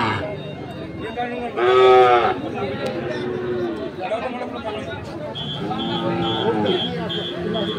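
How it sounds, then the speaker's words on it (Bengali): A Sahiwal bull calf at a busy cattle market lets out two loud, drawn-out moos, one short and one longer, while people chatter and murmur nearby. "এই গরুটা তো ভিতরে থাকলে হয়"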